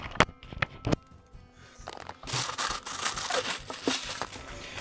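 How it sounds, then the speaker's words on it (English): A plastic bag is torn open and crinkled while unboxing an AX-3005DS bench power supply, starting with a few sharp close snaps and rustles, then settling into sustained crackling crinkle. "Plastic bag."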